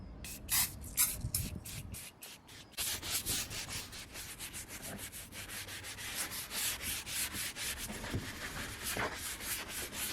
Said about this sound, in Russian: Для лучшего результата распылю немножко средства для обивки и велюра.